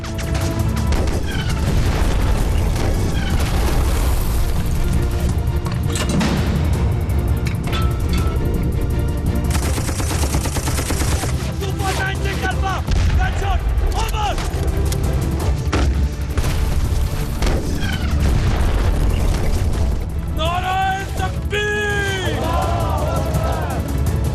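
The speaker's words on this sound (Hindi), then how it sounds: "दुश्मन का टैंक फायर!" Tank cannon fire and explosions in a 2016 Pakistani war film make a dense, loud, continuous battle mix of booms and crashes, layered with music and shouting voices.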